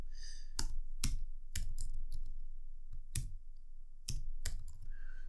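Typing on a computer keyboard, sharp, distinct keystrokes in short bursts separated by brief pauses, close and clear with no voices.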